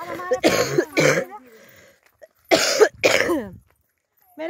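A person coughs in two harsh bursts of two coughs each, close and loud, separated by a short pause.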